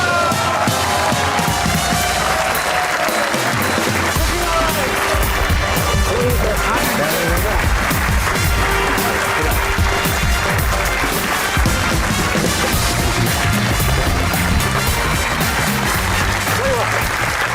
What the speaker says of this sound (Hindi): आपकी भरपूर तालियों में one of my favourite Waqar Yunus